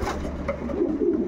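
A pigeon from a racing loft, in a Schellens-line breeding setting, gives a low, soft coo. The brief call sits close and steady, with no talking.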